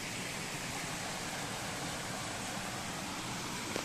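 A stream near Calejon Falls flows in a steady, even wash of water, moderately faint and unbroken, with no voices.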